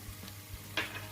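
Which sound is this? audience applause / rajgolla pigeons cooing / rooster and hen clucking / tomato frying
tomato frying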